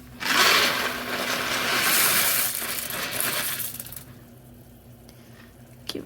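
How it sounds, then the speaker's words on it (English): Dry ditalini pasta poured into a pot of Italian wedding soup with meatballs, making a dense rattling, hissing cascade for about four seconds that then thins out, with a last small clink near the end. "you want to add about 1 cup of ditalini or small pasta to your soup"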